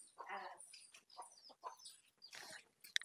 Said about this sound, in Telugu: ఈ కోళ్ళు ఆకిట్లా ఆకిటే వస్తున్నాయి